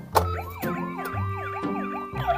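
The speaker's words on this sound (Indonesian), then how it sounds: "di sini juga ada mobil truk pemadam kebakaran. Ada suara dan lampunya." Toy fire truck siren wailing in a steady repeating up-and-down electronic tone, close and fairly loud, with a few sharp clicks among the cycles and no talking.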